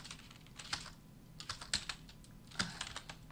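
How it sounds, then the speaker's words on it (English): Light, quiet clicking of keys on a computer keyboard, typed in short irregular bursts with brief pauses between groups of strokes, close by and alone. "you need to type in your product."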